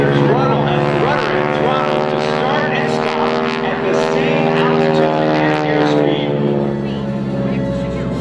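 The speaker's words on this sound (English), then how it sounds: "Let's watch as Jim Leavelle goes through a huge barrel roll using the ailerons, elevators, rudder, and rudder" A T-6 Texan propeller trainer at an air show flies a large barrel roll, its radial engine giving a loud, steady drone with a rich harmonic hum that shifts slightly in pitch as the aircraft turns, heard continuously throughout.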